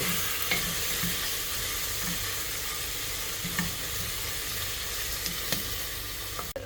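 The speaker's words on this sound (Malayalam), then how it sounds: "ഈ തക്കാളിയും അതെല്ലാം ഒന്ന് വഴണ്ടി വരുന്നത് വരെ ഒരു 2-3 മിനിറ്റ് നമുക്ക് മിക്സ് ചെയ്ത് കൊടുക്കാം." Tomatoes stir-fry inside a Kenwood Multipro Express pressure cooker, giving a steady soft sizzle with occasional light scrapes and taps from stirring.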